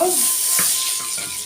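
Ghee sizzles steadily in a pot as it heats for cooking rice, a close, continuous hiss with a faint stir partway through.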